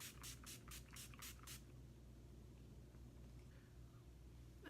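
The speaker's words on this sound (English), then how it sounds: "I'm going to complete it with some Urban Decay Deslick makeup setting spray." Urban Decay De-Slick makeup setting spray misted in about seven quick, even hissing pumps close by, followed by quiet room noise with no talk.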